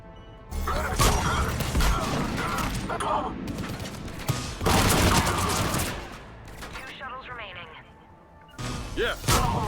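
Bursts of gunfire and grenade blasts from a Mass Effect 3 combat scene crash in loud, dense volleys, with short lulls between them and voices talking over the fighting.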